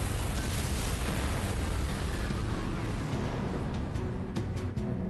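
A chain-reaction explosion in the video game Halo 3: ODST sends out a dense, rumbling blast that rolls on as one sustained boom, heavy in the low end, with a few sharper pops as it tails off.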